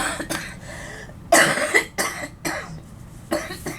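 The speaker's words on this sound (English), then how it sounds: "Cut out that cough, please." Several harsh coughs in a row, close and fairly loud, spaced out with brief pauses between them.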